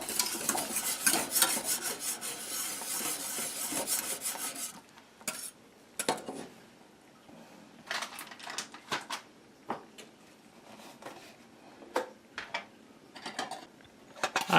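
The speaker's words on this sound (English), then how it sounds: "you want to use something like a whisk, like Molly is using here, to break up your custard powder, make sure it's dissolved" Whisk scraping and rasping through custard powder in a bowl, a steady dense rubbing for the first five seconds, then sparser irregular scrapes and taps, close and fairly quiet.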